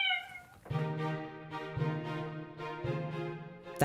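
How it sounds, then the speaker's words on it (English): An indoor cat meows in a long drawn-out, wavering call of three or four connected cries, close and fairly quiet with no talking. "Like the cat usually tries to get in shot"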